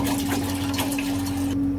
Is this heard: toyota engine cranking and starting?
no